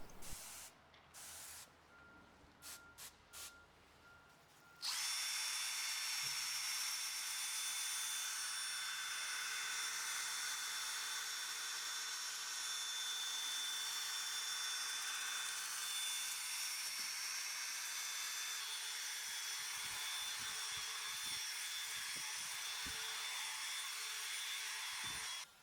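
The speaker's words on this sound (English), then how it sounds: "wet the lens and sanding disc with water and start sanding" A drill spins an 800 grit disc wet-sanding a headlight lens, beginning with a few short spray bursts, then a steady loud whirring hiss lasting about twenty seconds, heard on its own.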